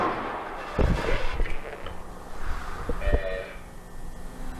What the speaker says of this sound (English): Oh, they heard the gunshot.